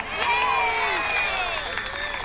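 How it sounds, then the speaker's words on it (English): Children at a Halloween party cheer and shout in a loud, continuous crowd before a magic show, with excited high voices and some clapping mixed in. "How about a big round of applause for the amazing Brian?"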